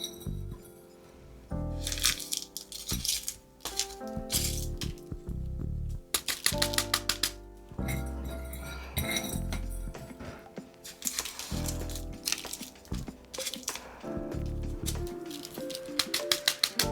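Soil poured and patted into a bonsai pot during repotting, with clustered crunchy scrapes, rustles and light taps coming in irregular bursts, close by and fairly quiet.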